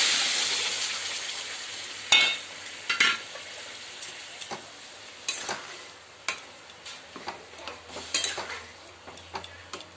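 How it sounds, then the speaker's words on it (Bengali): Boiled raw mango gets stirred in a frying pan with turmeric and salt, a gentle sizzle under a series of sharp metallic spoon clinks and scrapes that come irregularly, close and moderate in level. "দিয়ে এটাকে ভালো করে নেড়ে নিচ্ছি"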